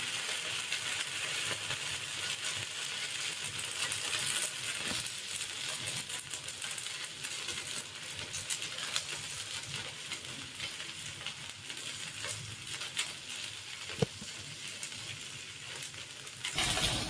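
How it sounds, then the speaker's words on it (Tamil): Small instant aval bun dosas made from poha batter fry on a pan with a continuous dense sizzle and crackle, fairly quiet and steady throughout, with a low hum underneath and no talking. "இதை மாவு சின்ன சின்ன தோசையாக ஊற்றி எடுத்துக்கலாம்."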